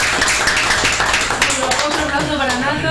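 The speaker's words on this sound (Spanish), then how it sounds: "Yo quiero un aplauso para Omi" Applause at a Spanish-language year-end radio show gathering, a light patter of clapping from a small group mixed with overlapping speech and background chatter.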